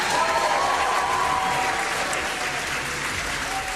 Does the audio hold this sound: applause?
yes